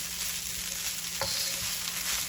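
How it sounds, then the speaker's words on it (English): A spoon stirs turmeric rice in a big pot, scraping once against the bottom amid a soft, steady sizzle with no voices. "Stirring it, breaking up the rice."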